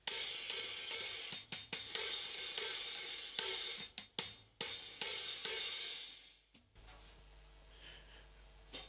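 Stacked hi-hat made from a Paiste 2002 16-inch crash over a Rude crash ride, played in a loud, washy stream of sizzling hits with a few sharp chokes before the sound cuts off and fades.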